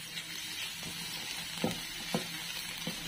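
Garlic sautés in a pan with a soft, steady sizzle, and a few faint stirring scrapes stand out over the frying.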